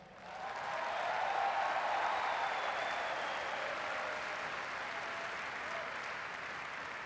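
Crowd applause at a presidential election victory speech, a large audience clapping and cheering that swells within the first second and holds steady and broad, slowly easing off.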